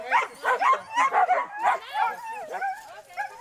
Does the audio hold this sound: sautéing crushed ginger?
no